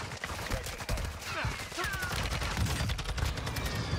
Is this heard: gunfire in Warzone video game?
yes